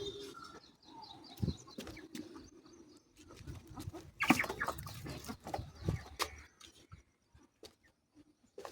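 Chicken chicks cluck and peep around a coop while grown fowl call intermittently, a busy farmyard scatter of short calls with a louder burst midway and no talk.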